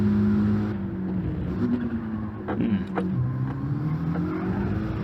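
Race car engine in a racing video game at the Red Bull Ring drones steadily and loud, its pitch sliding up and down through revs and shifts, with no talking over it.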